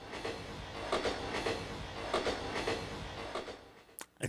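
A train sound effect from a Roland FP-30X digital piano gives a steady rumbling roll with rhythmic clacks recurring about every second, loud and alone, with a sharp high burst near the end.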